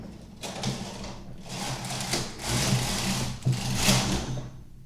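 A domestic knitting machine set for punchcard tuck patterning knits a row, the carriage sliding across with a rhythmic mechanical whirring and clacking in repeated surges, with no talking.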